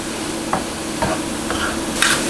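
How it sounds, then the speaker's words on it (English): Vegan empanada filling being stirred with a spoon in a pan over a steady sizzling hiss, with soft scraping strokes repeating about every half second, close up. "I'm gonna mix all this."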